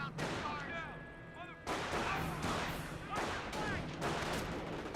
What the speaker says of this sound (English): Good mortar hit there.